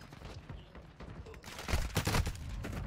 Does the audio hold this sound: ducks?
no